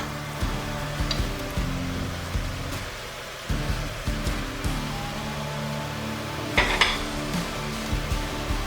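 Onions go into browned beef and pork frying in a pot for Texan chili con carne, a steady close sizzle broken by repeated scrapes and clanks of stirring, with no talking.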